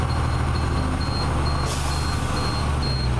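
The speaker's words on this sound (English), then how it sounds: "I heard the big psh, the compressor, so I know that the compressor's working off." A school bus converted to a skoolie idles with a low engine rumble. Its air brake compressor cuts off with a brief, sharp hiss of released air midway through, and a repeating electronic beep sounds in the background.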